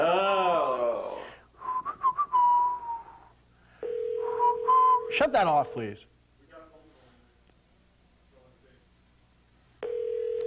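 Steady electronic telephone tones sound while keypad numbers are entered for a call that fails, in two long flat beeps with a third starting at the end, mixed with whistling and several people talking.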